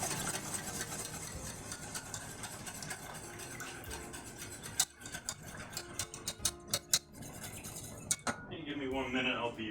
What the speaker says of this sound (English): Whisk here. Give this a good mix up.